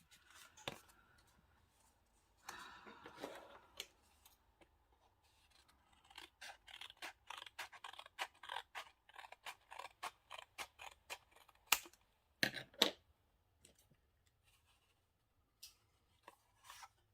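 Scissors cut paper up close with a run of quiet, crisp snips in an irregular rhythm, broken by a few louder rustles and pauses.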